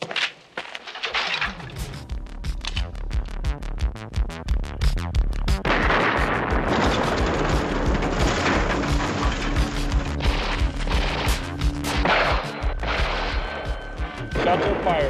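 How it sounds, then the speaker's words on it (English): Movie gunfight in a 1984 martial arts action film: rapid, dense bursts of loud gunshots fire almost continuously, with booming cracks and rolling echoes layered over each other. "Shots are fired."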